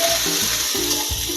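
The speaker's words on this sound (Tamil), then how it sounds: "பெரிய வெங்காயம் போட்டு வதக்குறேன்." Large onions sautéing in oil with cinnamon, cloves and cardamom for chicken masala: a strong, continuous close sizzle with a repeated scraping rhythm as a spoon stirs through the pan.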